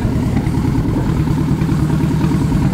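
A car with a full titanium exhaust idles loudly nearby with a deep, throaty, burbling exhaust rumble, steady and uninterrupted.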